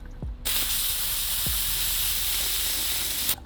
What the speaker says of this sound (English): You take your trusty propane and you just kind of